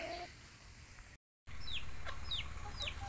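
Black Australorp chickens cluck softly over steady background noise, with a few short rising squawks repeating near the end.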